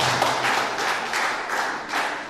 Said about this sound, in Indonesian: Berikan tepuk tangan bagi kita semua